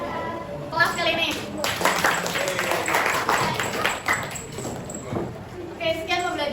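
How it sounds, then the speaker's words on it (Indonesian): A classroom of high school students applauds together, a dense burst of clapping that swells and holds steady, with voices of the teacher and kids heard briefly around it. "jadi kita tepuk tangan dulu untuk kelas kali ini."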